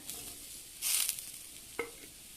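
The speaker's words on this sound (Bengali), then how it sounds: "আদা রসুন ডাটাগুলো দিয়ে একটু নাড়াচাড়া করে নিয়েছি" Drumstick pieces with ginger and garlic being stir-fried in a pan, a faint sizzle with a brief louder burst and a couple of light stirring clinks, quiet overall.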